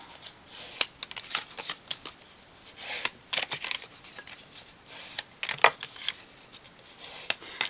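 Sheets of paper being folded and creased by hand for a Christmas tag embellishment book, a run of close, crisp rustles and sharp snaps at an uneven rhythm, with no talking.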